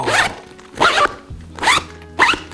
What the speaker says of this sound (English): Love those zippers too